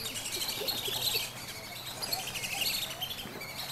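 Free-flying birds in an Australian bird park chirp and call continuously in a busy, fairly loud chorus, with no talking.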